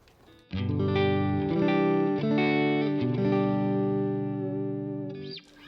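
An electric guitar played through a Tone King Imperial amp rings out a short sequence of sustained chords with a warm, slightly driven tone and a touch of reverb.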